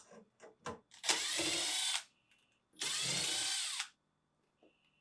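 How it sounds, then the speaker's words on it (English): A 1/4 inch nut driver on a power drill backs out two bolts from a GE refrigerator slide bracket: two loud whirring bursts about a second each, close up, with small clicks and handling knocks before and between. "Using a 1/4 inch nut driver, remove the 2 bolts holding the slide bracket in place"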